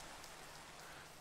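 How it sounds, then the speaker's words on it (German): Rain falling steadily in Minecraft, a soft even hiss of drops on surfaces, quiet and continuous with no other sounds. "Und hier regnet's alles nass."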